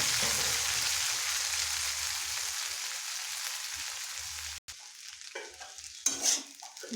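Chowmein is stir-fried in a wok with cumin, chilli, cumin powder and turmeric, giving a steady close sizzle with continuous stirring that fades near the end, followed by a sharp clank and a few scraping utensil sounds.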